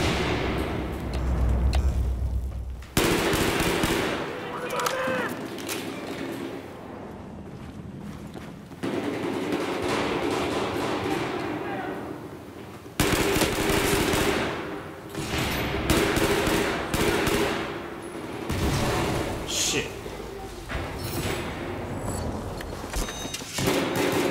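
Dense machine gun fire in a Battlefield 4 team deathmatch on Xbox One, loud and continuous, with sustained bursts that cut off and restart abruptly several times.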